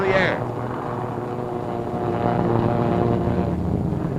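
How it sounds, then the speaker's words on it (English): Archival newsreel sound of a B-25 bomber taking off from a carrier deck, a steady propeller engine roar under a narrator's voice, with a brief higher whine at the start. "Another B-25 to join the formation circling over the task force until all the 16 planes can get into the air."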